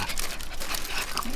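Dogs playing at close range, giving short yips, whimpers and panting amid rustling and crinkling, with a steady scuffle of movement throughout.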